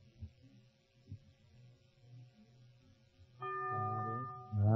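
A quiz show bell tolls near the end, a loud ringing strike with sustained overtones following a stretch of low hum and faint murmur.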